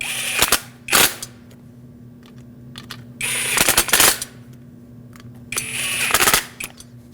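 Bolts on a 2006-2014 Lexus IS250 front window regulator being snugged up with a power tool, heard as three loud rattling bursts of a few tenths of a second each, spaced about three seconds apart, with quiet gaps between.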